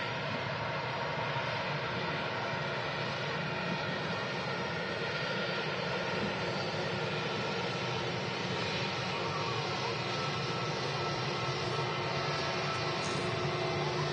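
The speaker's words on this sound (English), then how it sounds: "It's an A320 heading back to London Heathrow Airport on the shuttle service." A British Airways Airbus A320 jet on the shuttle to London Heathrow roars steadily at Manchester Airport, a broad continuous engine rumble and hiss with no voices.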